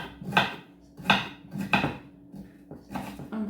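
A kitchen knife chops through the end of an older, floppy vegetable on a board, five or six distinct close knocks in an uneven rhythm with no talking.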